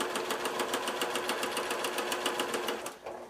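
Sewing machine stitching fabric along the edge for half-square triangle quilt pieces, a quick regular needle clatter running steadily up close before slowing and stopping at the end.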